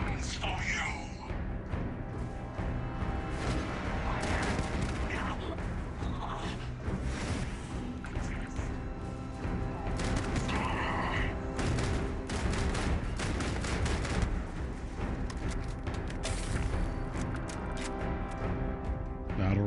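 Rapid battle rifle fire in the sci-fi game Starfield, sustained bursts layered with mechanical clanks and whooshes over a dense, loud combat soundscape, with voices talking throughout.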